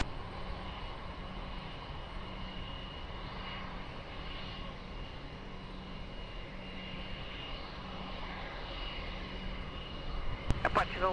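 Airplane landing on runway 20 at Lisbon Airport, a distant, steady engine roar that rumbles on at a constant level, with a few sharp clicks right at the end.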